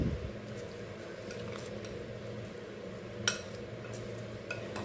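Puliyodharai spice powder premix is stirred in a vessel: a faint, steady soft scraping with one brief clink partway through, otherwise quiet.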